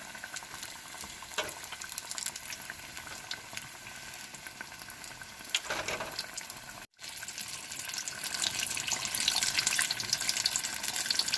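Ridge gourd bajji in batter fry in oil over a medium flame, giving a continuous bubbling crackle that swells louder toward the end after a brief break, with no talk over it.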